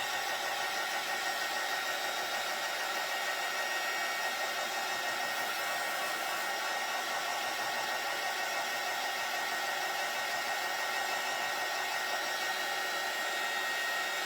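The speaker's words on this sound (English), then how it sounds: "But first we got to dry this so when I put this down it doesn't smear." A hair dryer blows steadily and close by for the whole stretch, drying the fresh print on a vintage frame kit, with a constant broadband whoosh and no talk.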